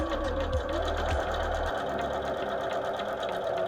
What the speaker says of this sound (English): when we place this under the machine to stitch